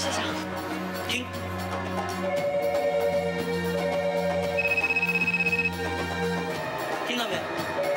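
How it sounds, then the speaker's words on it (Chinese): Telephones ring nonstop in a busy magazine office, a continuous electronic trilling over a steady background bed, with a faster pulsing burst in the middle before the ringing carries on. "停不下来的电话声。"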